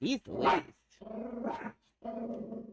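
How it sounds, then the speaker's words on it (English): A dog indoors barks and growls in several drawn-out bursts nearby, while a person talks briefly in the room. "I'm sorry about my dog barking"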